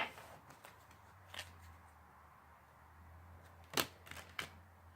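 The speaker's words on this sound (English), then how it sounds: "So that little Hecate card fell out while I was shuffling." Tarot cards are riffled and shuffled close by, soft papery rustling punctuated by a few crisp slaps and flicks toward the end.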